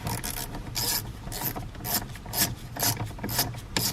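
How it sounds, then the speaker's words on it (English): Screws are driven snugly into plastic parts during a turn signal and wiper switch replacement on a 2018 Buick Enclave, giving repeated close ratcheting clicks in steady bursts with no talking. "These are just going into plastic, so you just gotta make them nice and snug, not crazy tight."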